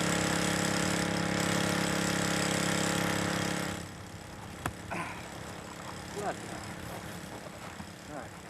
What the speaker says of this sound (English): The pump works and the Otter's tank fills with what we hope will be enough to see us to the pole.